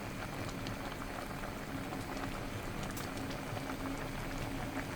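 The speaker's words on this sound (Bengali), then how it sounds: "আম সিদ্ধ হইতে যতটুকু সময় লাগে" Mangoes simmer in a pot of water on the stove, giving a dense, even bubbling and gurgling that stays steady and close throughout, with no voices over it.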